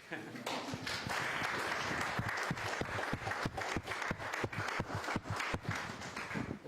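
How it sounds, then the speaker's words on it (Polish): Audience applause at an art gallery exhibition opening of reliefs, a steady wash of clapping with sharp individual claps standing out, fairly close, with voices murmuring underneath. "możecie brawa bić"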